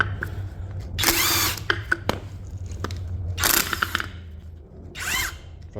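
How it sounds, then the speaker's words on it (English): An impact wrench works a nut loose on the rear trailing arm of a 2008 Pontiac G6, sounding as three loud, close bursts of rattling hammering, each a second or less, separated by quieter clinks and tool handling. "I'm going to use the impact and hopefully it'll come right off"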